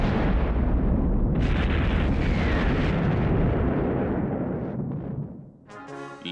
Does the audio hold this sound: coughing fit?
no